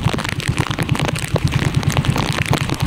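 Steady rain pours at sea onto a small fishing boat, a dense hiss of drops mixed with the close, rhythmic thump of the boat's engine kept running.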